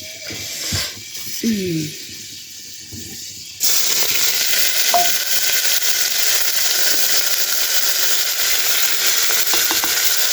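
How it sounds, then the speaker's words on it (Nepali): Fenugreek seeds dropped into hot oil suddenly erupt into loud, steady crackling and sizzling that continues to the end, after a stretch of quieter kitchen sounds with a voice talking. "तेल खरिसकेपछि मेथी पड्क्यो"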